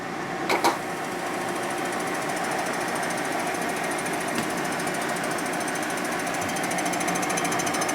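Milling machine cuts metal on a part for a 1980 Harley shovelhead 92ci stroker top end, a steady loud grinding chatter that runs unbroken for several seconds after two brief sharp knocks near the start.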